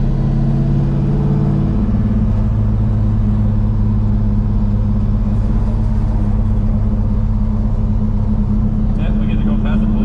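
A 1968 Cutlass with its hood off drives along, a loud steady engine drone rumbling throughout, rising slightly as the revs climb, with no talk over it.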